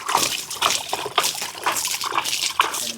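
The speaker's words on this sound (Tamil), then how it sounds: "நான் போய் தண்ணி பிடிச்சிட்டு வந்து இது தண்ணி தெளிக்கிறேன்" Water splashes and patters in quick repeated bursts as it is sprinkled over the backyard ground of a village home, close and fairly loud with no talking.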